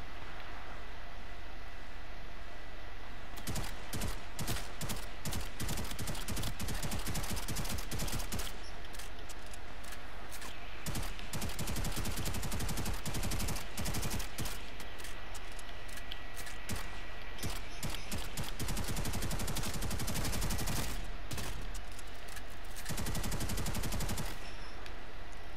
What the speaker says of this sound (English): This guy, I'm shooting at a sniper.